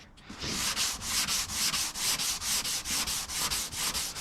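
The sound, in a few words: hand sanding guide coat with tubular sanding block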